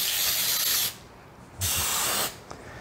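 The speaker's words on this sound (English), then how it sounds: "I actually go back over that and I actually spray my parchment paper too" Cooking spray hisses onto parchment paper lining a baking pan for eggnog bread: two close, loud bursts, the first just under a second and the second slightly shorter, separated by a brief quiet gap.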